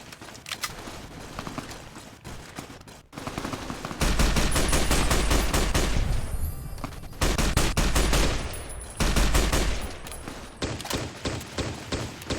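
Gunfire in the video game Fallout New Vegas: loud, dense bursts of automatic fire in repeated volleys, with brief gaps between them and sharp single shots near the end.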